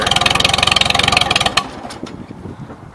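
A 1953 Super H engine lugging uphill in fourth gear gives a loud, heavy, rhythmic chugging that abruptly cuts out partway through, leaving quieter rattles and faint mechanical noise.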